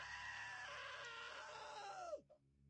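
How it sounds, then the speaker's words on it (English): A loud, sustained scream in the game What Remains of Edith Finch, holding for about two seconds before it breaks off with a sharp downward drop, followed by a quiet hum. "Now that was a great scream."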